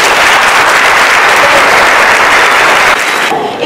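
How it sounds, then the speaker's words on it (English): A keynote audience bursts into loud, sustained applause, dense clapping filling the space before it briefly thins near the end. "Let's give her a round of applause."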